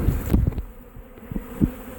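Honeybees buzz steadily close by during a hive removal from a boat in Auburndale, Florida, a continuous droning hum broken by a few soft knocks and bumps.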